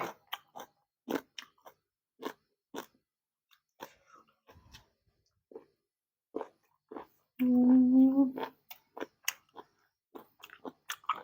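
Large cuttlefish tentacles, crunchy and served with a spicy dipping sauce, chewed close to the mic: a string of sharp, wet crunches and bites at an irregular pace, with a brief low humming tone partway through and no talking.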